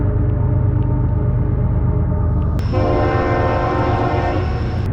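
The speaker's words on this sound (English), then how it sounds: "Trains coming up and down this river all the time" A loud, close freight train beside the Youghiogheny River rumbles steadily past with a heavy low roar, then a blaring horn cuts in partway through and holds over the rumble.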